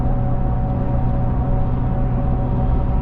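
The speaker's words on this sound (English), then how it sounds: "A lot of tire noise right now." Tire roar from a vehicle cruising at 65 mph on the highway fills the cabin as a steady, broadband rumble and hiss, constant and unbroken with no voices.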